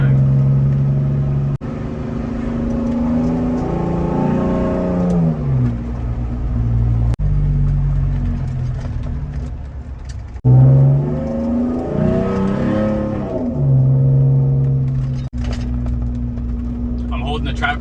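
A Ford F150 pickup in manual mode is driven hard, its engine revving up loudly through each gear with rising whines, sharp shift breaks and renewed climbs, recorded from inside the cab.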